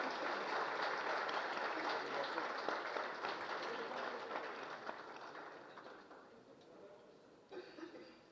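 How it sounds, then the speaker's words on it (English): Audience applause for General Zubair Mahmood Hayat at a Pakistan summit, a broad, even clapping wash that gradually fades over several seconds, with a voice briefly heard near the end. "Ladies and gentlemen, a big round of applause for General Zubair Mahmood Hayat."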